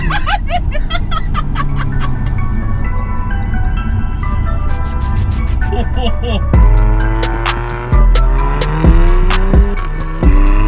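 A tuned 400 bhp APR Stage 2 Audi S3 8V launches hard, its tires spinning and squealing loudly over a rising engine note, with gear changes breaking the sound into distinct surges.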